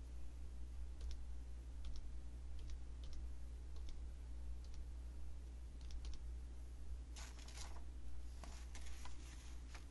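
Typing on a computer keyboard: sparse, faint key taps with a denser flurry of clicks near the end, all buried under a loud steady electrical hum, and no speech.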